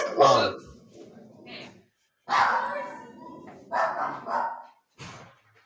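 Dogs barking indoors in loud bursts separated by pauses, close by, with people talking over them.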